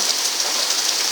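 Steady rain falls throughout a thunderstorm, an even hiss of many close, dense drops pattering on a surface with no voices or thunder heard.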